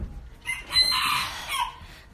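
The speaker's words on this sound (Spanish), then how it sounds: "Este es el gallito. Miren el gallito." A rooster crows once close by, a loud, clear cock-a-doodle-doo with a rising then falling call, alone with no talking.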